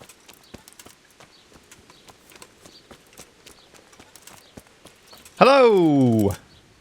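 A horse in the medieval game Kingdom Come Deliverance clip-clops along in a steady, faint rhythm of hoofbeats, broken near the end by a brief, loud tonal cry.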